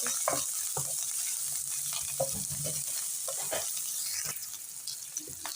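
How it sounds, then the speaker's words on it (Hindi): Ginger garlic paste with green chilli paste frying in hot oil for samosa filling, a continuous bright sizzle with occasional stirring scrapes and spatters, close and fairly loud. "तो अदरक लहसुन को हम थोड़ा सा फ्राई कर लेंगे"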